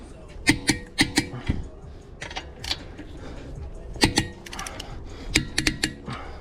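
Lug nuts on a BMW G20 330i are torqued down in a crisscross pattern, giving scattered sharp, close mechanical clicks in irregular clusters with short gaps between them.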